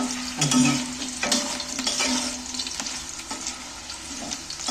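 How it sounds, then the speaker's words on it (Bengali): Potato pieces frying in hot oil in a pan while being stirred, giving a steady close sizzle with soft scraping stirs throughout; no talking. "আলুগুলোকে তেলের মধ্যে নাড়াচাড়া করে ভেজে তুলে নিন বেশ লাল লাল করে ভালো করে ভাজবেন"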